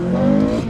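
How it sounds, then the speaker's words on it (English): Honda Civic Type-R FN2 held at full throttle in third gear on snow, a loud, close, strained engine roar with spinning tyres, brief and steady. "I can go full throttle on the spot in third"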